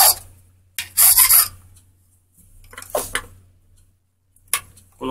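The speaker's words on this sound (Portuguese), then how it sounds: "E esse aqui eu vou ter que limar mais," Hand filing of a Stam cylinder key, a few short rasping strokes of the file against the metal blank, close and sharp, separated by quiet pauses with faint handling clicks.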